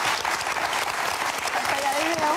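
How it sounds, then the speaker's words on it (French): An audience claps warmly and steadily, a sustained burst of applause with voices audible over it. "on vous applaudit très fort"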